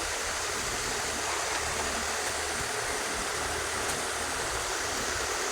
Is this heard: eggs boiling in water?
yes